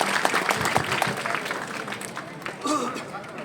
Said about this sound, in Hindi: तो ताली बजाओ उस बच्ची के लिए जिसने ये याद रखा।